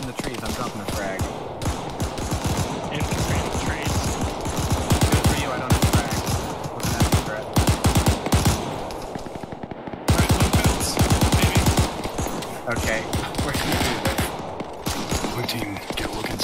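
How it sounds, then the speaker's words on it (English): Sustained bursts of heavy machine gun fire in the military shooter Arma 3, loud and continuous with rapid repeating shots, while voices talk over the gunfire. "Copy, HMG is at your line of sight now."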